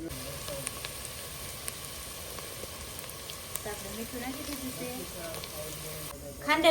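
Masala sizzles and fries in a pan while crab biryani cooks, a steady soft crackle that runs throughout, with faint clatter building near the end.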